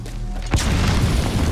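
A grenade explodes in Metal Gear Solid V: The Phantom Pain, a single sharp boom halfway through followed by dense, loud rumbling game noise that fills the rest of the moment.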